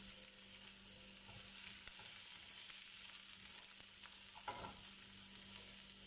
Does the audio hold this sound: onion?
yes